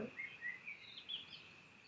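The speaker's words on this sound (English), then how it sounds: "Can you hear the birds?" Faint, high bird chirps repeat in short bursts over a soft outdoor background, with no talking.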